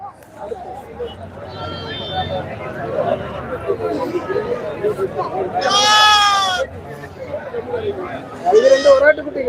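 Two-week-old goat kids at a livestock market in Kunnathur give several high, wavering bleats in separate bursts, loud and close, over a steady murmur of people talking nearby.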